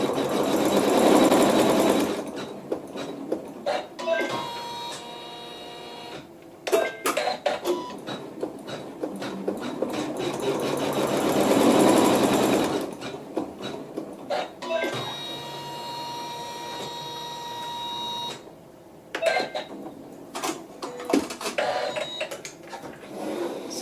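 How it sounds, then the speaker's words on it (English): An embroidery sewing machine stitching a quilt seam runs in two long, steady, loud bursts with a pause between, its needle chattering rapidly, followed by shorter intermittent stitching. "I'm going to go ahead and sew the seam for step 5 and step 6"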